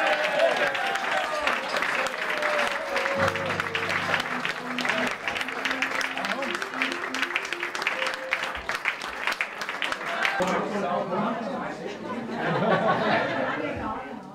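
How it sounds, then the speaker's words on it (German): Crowd applauding at the Basel carnival (Basler Fasnacht), a long rolling round of clapping mixed with chatter and some laughter, with a tonal horn-like note briefly audible under it and voices continuing toward the end. "Gebt mir einen dicken Applaus, Junge!"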